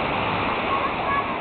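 Waves break on the Lake Michigan shore in a loud, continuous rush of churning surf heard up close, with no talk over it.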